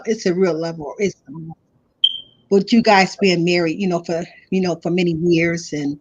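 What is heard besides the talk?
alarm going off for work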